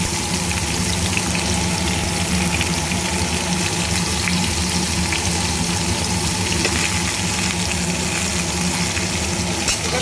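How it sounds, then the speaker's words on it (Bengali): Pointed gourd fries in a pan with salt and turmeric, giving a continuous close sizzle and crackle that stays steady and fairly loud throughout. "এবার পটলটা একটু ভাজা ভাজা করে নেব, ভালো করে একটু লাল লাল করে ভেজে নেব।"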